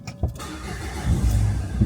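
A car engine in Morocco cranks with a short click and catch, then settles into a low, rising rumble as it is revved, close and fairly loud with no talk.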